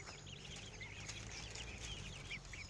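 Young chicks and a hen cluck and peep faintly in an outdoor pen while the birds peck at grass, with thin chirps repeating over a constant low background hum.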